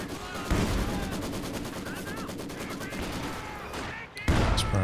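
Infantry support guns firing in Company of Heroes 2, with rapid rhythmic machine-gun bursts and scattered gunfire continuing for several seconds, a short lull, then another loud burst.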